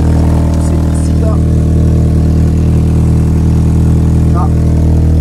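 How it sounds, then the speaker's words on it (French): An Audi car engine idles with a knocking noise, a loud, steady, continuous rumble heard up close with no break. "Les mecs, la voiture elle fait un bruit, mais c'est terrible."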